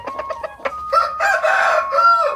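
Elba and KUB hens give a few short clucks, then a rooster crows loudly and close up, the call stretched across the back half with no talk over it.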